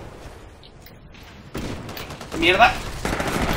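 An Ogre titan fires in the video game Titanfall on Xbox 360, a sustained volley of rapid gunshots and booms that swells in the second half, while a player swears over it.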